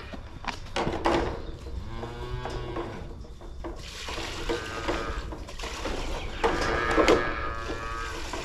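Calves on an Australian dairy farm moo repeatedly, several nearby drawn-out bawling calls overlapping with some shuffling and farm background noise.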